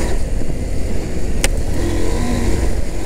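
A Husqvarna Norden 901 motorcycle with traction control off accelerates hard on a dirt trail, its engine a steady loud drone with a sharp click partway through.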